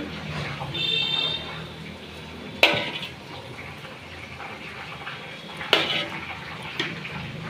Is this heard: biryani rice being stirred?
yes